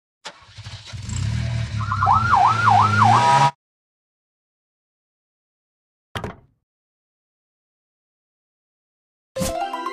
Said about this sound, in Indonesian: Mobil polisi.